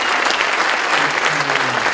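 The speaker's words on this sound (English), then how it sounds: "So if we could give a warm round of applause to people who talk sports." Loud, close applause from an audience at a hall of fame ceremony, dense and continuous clapping with a few faint voices mixed in.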